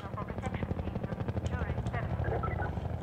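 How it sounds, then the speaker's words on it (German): Several helicopters fly overhead in the video game Half-Life 2, their rotors beating in a fast, steady chop, with a voice mixed in over the noise. "Oh, hier fliegen auch ein Haufen Hubschrauber rum."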